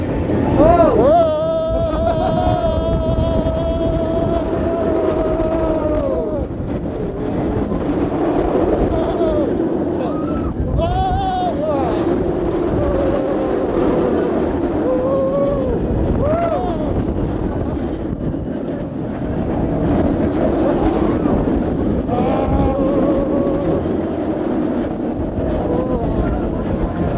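A Thorpe Park theme park ride running, with steady rushing wind and mechanical roar throughout, and people talking, shrieking and laughing over it.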